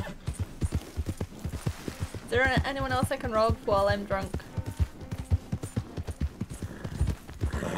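Horse hooves clip-clop steadily at a walk in the western game Red Dead Redemption 2, a close, rhythmic clatter running throughout while someone speaks over the middle stretch.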